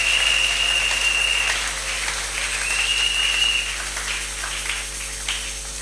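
A church congregation at a Sunday service applauding, a steady wash of many hands clapping together at moderate distance, sustained throughout without a break, with a faint high tone running through.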